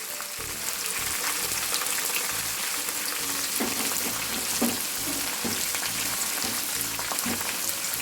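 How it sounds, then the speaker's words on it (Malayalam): Jackfruit fibre frying in oil with turmeric while being stirred, a loud continuous crackling sizzle with soft scraping of the spoon, close up and without voices. "ഒന്ന് നല്ലതുപോലെ ഇളക്കി കൊടുക്കാം നമ്മുടെ ചകണിയൊക്കെ മൂത്ത് വന്നിട്ടുണ്ട്"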